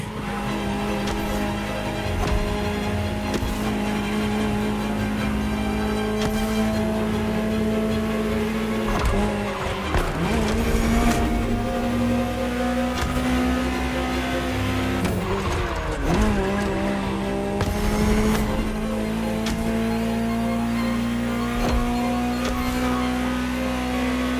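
A high-revving Ferrari supercar engine in the game The Crew Motorfest roars continuously, shifting pitch through gear changes, with tire squeals and mechanical whine throughout.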